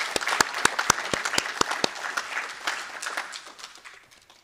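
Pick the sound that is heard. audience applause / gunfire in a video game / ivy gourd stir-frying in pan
audience applause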